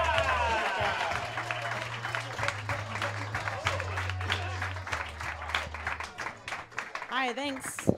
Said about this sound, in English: Ladies and gentlemen, clap it up